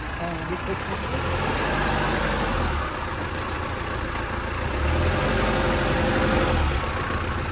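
A 2002 Hyundai Porter truck engine idles with a steady low rumble throughout, while a voice talks over it.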